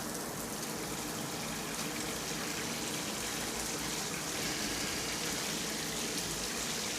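Water gushing from a faucet into a big, deep hotel bathtub, a steady, full hiss of running water at moderate level, with no voices over it.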